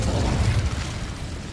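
Fiery burst of an Incendio spell in the Hogwarts game: a loud, deep whooshing roar that flares early and then settles into a sustained rumbling crackle, with no voices over it.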